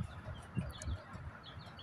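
Chickens on a small home farm make soft, low clucks in a few short bursts, fairly close but quiet, over faint background noise.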